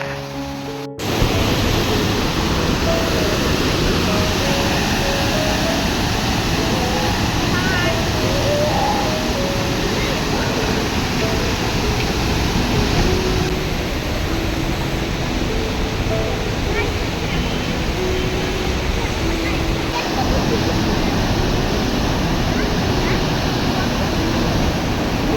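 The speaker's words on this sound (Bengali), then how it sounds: "এই দিক দিয়ে জলটা ওই দিক দিয়ে মেনলি যাচ্ছে, কিন্তু যেহেতু প্রচুর চাপ এখানটায় জলের" Water rushes under heavy pressure at Durgapur Barrage in a broad, steady roar. The roar is constant and close, with voices faintly audible beneath it.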